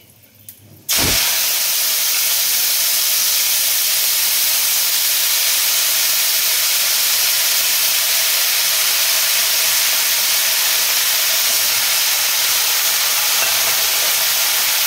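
Leafy greens hit a hot pan after a second of near quiet, bursting into a loud, continuous steaming hiss that holds evenly for the rest of the time.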